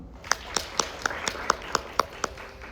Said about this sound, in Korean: 윤석 대표님을 박수로 환영해 주시기 바랍니다